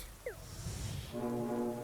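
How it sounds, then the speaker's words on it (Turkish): A deep, steady video game ship horn blast starts about midway and holds to the end, loud and sustained, after a brief high chirp and some rumbling noise. "Okkalı korna geliyor. Dikkat."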